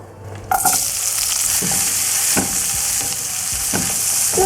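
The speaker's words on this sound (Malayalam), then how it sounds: "ഇനി ഞാൻ ഈ പാനിലേക്ക് സവോള ചേർത്ത് കൊടുക്കുകയാണ്" Sliced onion hits hot oil in a pan for fish molly with a sudden loud sizzle, then keeps hissing steadily while a spoon scrapes and stirs at intervals.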